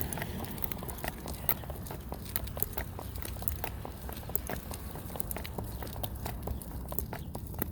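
Steady rapid clip-clop of a small horse's hooves, light and crisp, tapping in an even walking rhythm with no voices.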